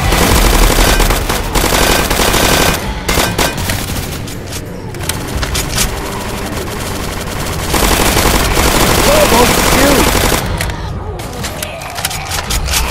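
Rapid automatic gunfire blasts in a Roblox zombie game, loud sustained bursts broken by short pauses, with splintering impacts and booms mixed in over about thirteen seconds.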